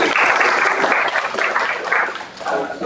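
An audience at a startup funding event in Mumbai claps steadily for about three seconds, a dense sustained round of applause that dips briefly before swelling again.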